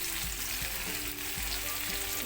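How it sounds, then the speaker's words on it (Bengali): Pumpkin seeds frying in a pan with turmeric and salt, giving a steady close sizzle throughout with occasional soft scrapes of stirring and no voices. "আবার হলুদ গুঁড়ো দিয়ে দিচ্ছি, নুন দিয়ে দিচ্ছি, দিয়ে নাড়িয়ে নিচ্ছি।"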